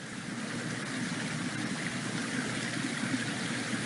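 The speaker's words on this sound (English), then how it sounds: "It's one of the few parts of the mountain that actually has a perennial water source" Mill Creek, a perennial mountain stream in Mill Canyon in Nevada's Cortez mining district, rushes and burbles in a steady, fairly close broadband wash with no voices.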